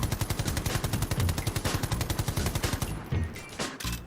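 An H&K MG5 machine gun in Call of Duty Modern Warfare (2019) fires a rapid, loud, even burst of shots for about three seconds, then falls into a few scattered mechanical clacks, with no voices.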